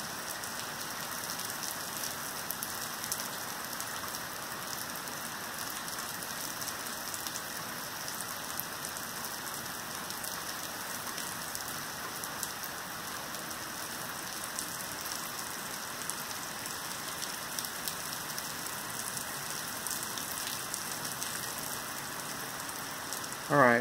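Steady rain patters on a surface, an even hiss of drops that keeps up without pause from start to finish.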